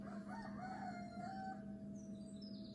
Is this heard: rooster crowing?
yes